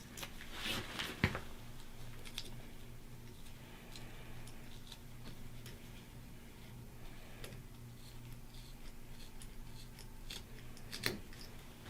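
Small scissors snip through pool table cloth in a few quiet, scattered cuts, with crisp clicks near the start and end over a steady low hum.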